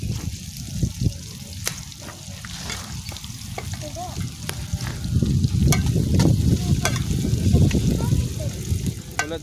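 Squid dropped into hot oil in a home kitchen, sizzling and crackling steadily with scattered pops and clinks, growing denser toward the end, while people talk over it.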